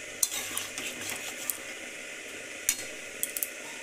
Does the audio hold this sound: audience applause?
no